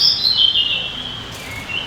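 Caged birds in a bird cafe give high, thin chirps and tweets close by, a bright twittering line over soft room ambience, with no talking.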